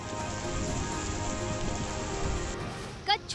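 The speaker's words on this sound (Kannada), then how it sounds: "ಕಳೆದ ಕೆಲವು ದಿನಗಳಿಂದ ಭಾರೀ ಮಳೆಯಾಗ್ತಿದ್ದು" Heavy monsoon rain pours down steadily in a broad, continuous hiss of drops hitting surfaces, with a brief faint knock near the end.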